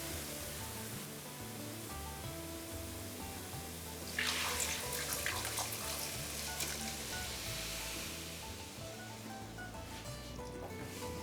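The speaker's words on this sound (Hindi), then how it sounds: "मैं डाल दूंगी इसके अंदर दाल" A soft steady sizzle of masala frying in a pan, rising into a brighter, louder hiss midway as lentils for dal makhani are poured in, then settling back into frying.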